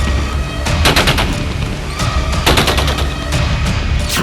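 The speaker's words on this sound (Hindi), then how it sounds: "फौज गोली चला रही है।" Rapid bursts of gunfire from army troops firing on street protesters, loud and close, with several clustered volleys of shots over a dense, noisy background.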